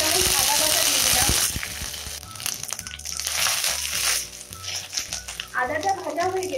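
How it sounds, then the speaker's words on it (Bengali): Ginger paste tipped into a hot wok for a Bengali chana dal, opening with a loud burst of sizzling and crackle that settles into softer frying with scraping and stirring sounds. "এবার আমি কড়াইয়ের মধ্যে 1 চামচ আদা বাটা দিয়ে দিলাম"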